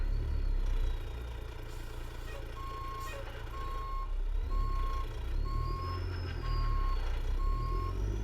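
Reversing beeps from a truck being parked in American Truck Simulator, a steady series of evenly spaced tones over a low idling engine rumble, with no talk.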